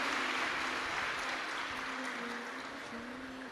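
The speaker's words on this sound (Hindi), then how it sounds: "एक बार जोरदार ताली बजाकर स्वागत वंदन अभिनंदन" Applause from a large audience at a Shiv Mahapuran religious discourse in Jalgaon, Maharashtra, welcoming the chief guest: steady, fairly faint, dense clapping that carries on throughout with a faint sustained tone beneath it.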